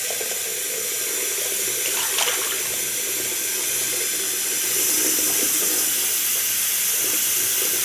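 Very hot tap water runs steadily into a sink before shaving brushes are soaked in a mug, a continuous close hiss and splash that grows slightly fuller partway through, with no voices.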